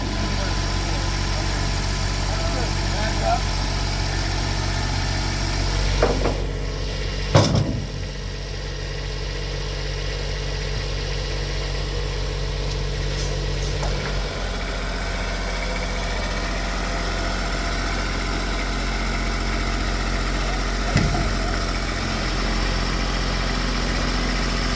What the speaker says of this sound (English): The museum volunteers use this tractor to lift the rail into place.